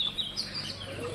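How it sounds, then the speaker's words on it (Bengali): Birds call in brief, thin chirps near a pet bird cage indoors, over a faint steady background hiss. "পাখি ডাকছে"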